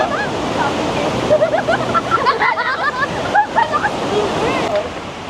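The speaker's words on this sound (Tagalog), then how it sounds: "So, malakas yung current ng waterfalls dito." A waterfall with a strong current in northern Taiwan gives off a steady, broad rushing roar. People talk over it close by.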